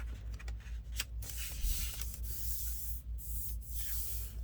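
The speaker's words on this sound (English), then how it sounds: "Let's spray a little bit with alcohol." Repeated bursts of hissing spray from a spray bottle of alcohol, several quick pumps in a row, close and fairly loud over a low background hum.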